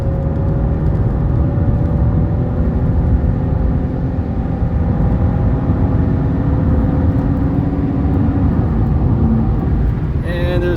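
A 2002 Buick Regal at speed on a test drive, heard from inside the cabin as a steady, loud engine and road drone that holds evenly throughout.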